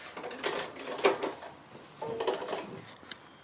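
A sewing machine runs in short bursts while back stitching along a cushion seam, with two brief whirring runs and light mechanical clicks between them, close and moderately quiet.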